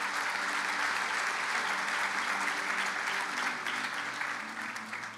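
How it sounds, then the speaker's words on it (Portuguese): Church congregation clapping during a sermon, dense continuous applause from many people, fairly loud and steady before tapering slightly at the end. "Você pode aplaudir Jesus por essa verdade?"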